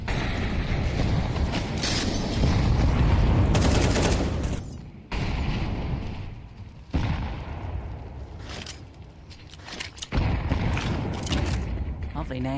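Gunfire in Counter-Strike 2 during a competitive esports match: dense, loud bursts of rifle fire and explosions in long sustained stretches broken by brief gaps, with a caster talking over the action.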